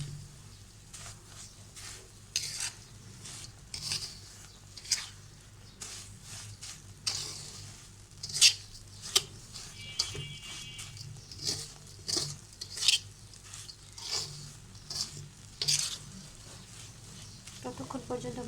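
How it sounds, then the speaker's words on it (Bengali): Fried vermicelli is stirred into a chocolate mixture in a pan with a utensil, giving soft, irregular scraping and tapping strokes, fairly quiet and near. A faint voice can be heard in places. "সেমাইগুলোকে আমি চকলেটের সাথে ভালোভাবে মিশিয়ে নেব।"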